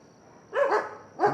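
A dog gives two short, sharp barks in quick succession, fairly close and moderately loud against a quiet background.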